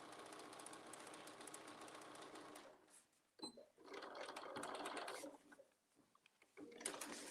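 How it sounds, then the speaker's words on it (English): A sewing machine topstitches fabric about 1/8 inch from the seam, running in steady close bursts with a brief pause partway through before stitching resumes. "go ahead and top stitch 1/8 of an inch"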